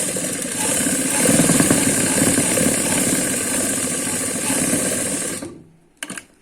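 A sewing machine runs steadily while stitching palazzo pants, a continuous mechanical whir lasting about five seconds before it stops, followed by a short clack near the end.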